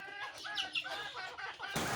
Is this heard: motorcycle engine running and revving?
no